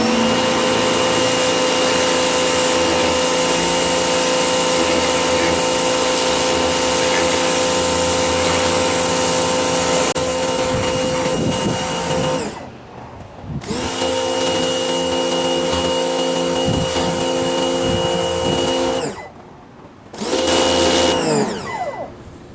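A pressure washer sprays hard and continuously at close range, a loud steady hiss and motor whine that cuts out briefly twice and restarts, with no talking.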